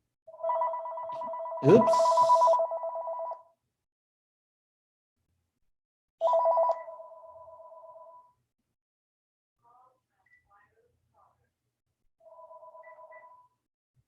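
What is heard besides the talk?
telephone ringing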